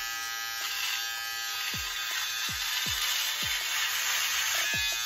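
Electric hair clippers buzz steadily and close while cutting a man's hair at a 6 millimeter guard setting, a continuous whine with a few soft thuds underneath and no talking.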